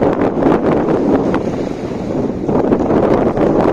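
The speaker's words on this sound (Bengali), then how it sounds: "অনেক বাতাস," Strong gusty wind at sea off Saudi Arabia buffeting the microphone in heavy rumbling bursts, with faint wave and water sounds beneath.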